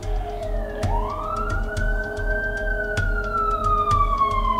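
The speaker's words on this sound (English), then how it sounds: "It's just some sirens, guys." Police sirens wailing steadily, a rising and falling siren tone sustained throughout over a low rumbling background, fairly loud and continuous with no talking.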